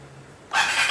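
A Vespa Sprint S scooter's electric starter cranks briefly, a sudden burst of bright mechanical whirring that cuts in after a quiet moment and runs to the end, close and fairly loud.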